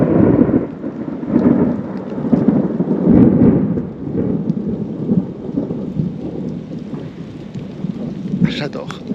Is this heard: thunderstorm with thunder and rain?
yes